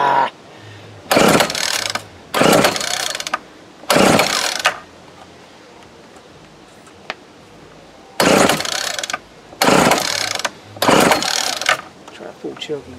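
A Snapper S31SST string trimmer with carburetor trouble, set to half choke, is pull-started six times in uneven bursts, each a short, loud ratcheting whir that dies away without the engine catching.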